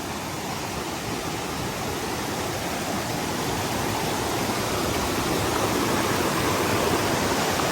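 A waterfall in a wooded area gives a steady, loud, broadband roar of rushing water, even and unbroken throughout.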